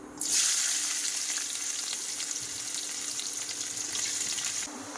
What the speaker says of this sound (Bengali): তেল কিন্তু একদম গরম আর ওই এলাচের কিন্তু একটু মুখ ফাটিয়ে দিয়েছি দেখো মুখ ফাটিয়ে দিয়েছি তাই কিরম ছিটকাচ্ছে